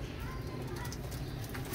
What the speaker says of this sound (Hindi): ये टोटल 12 कबूतर हैं